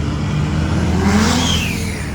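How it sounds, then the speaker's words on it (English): A car engine revs at a crowded street car meet, a loud, steady, close roar with a rising whine, and no voices. "Got boys over there revving it"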